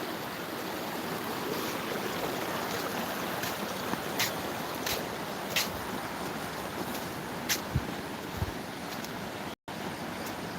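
Water from a mountain stream rushes and splashes continuously in a steady, full stream, with a few faint clicks and taps over the flow.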